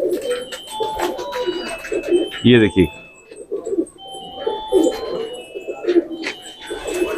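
Deobandi pigeons coo steadily in the background while someone talks over them, with a few louder wingy flutters and calls close by.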